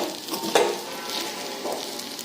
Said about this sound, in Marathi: सर्व मिश्रण परत छान एकत्र हलवून घ्यायचं. आणि मंद गॅसवरती छान हे परतून घ्यायचं.